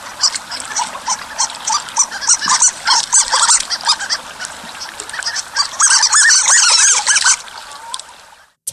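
Harlequin ducks calling in a rapid flurry of high, squeaky, toy-like squeals and honks, loud and close, overlapping in busy bursts for several seconds before abruptly stopping.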